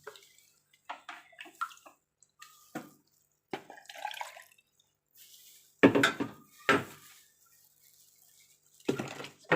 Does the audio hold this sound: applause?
no